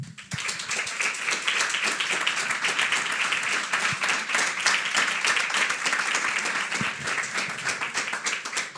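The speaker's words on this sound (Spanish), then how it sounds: "Eso, más aplausos, así ayudan también." An audience applauds after a lecture on cultural rights, sustained dense clapping from many hands, loud and even for the whole stretch, with a faint voice underneath.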